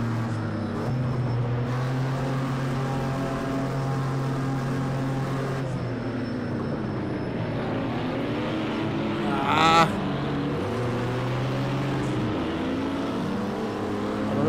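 Pickup truck engine in the Project Cars 2 racing game, a steady low drone with rising and falling revs and gear changes throughout, loud and continuous, with a brief sharp whine near the middle.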